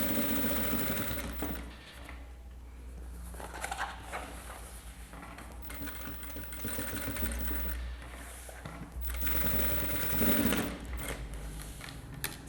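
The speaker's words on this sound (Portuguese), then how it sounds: "Costurei então toda a volta, prendendo a minha nécessaire, ó lá, no meu forro." Sewing machine stitching a lining onto a necessaire made from a milk carton, running in a steady, close mechanical chatter with brief pauses and speed changes.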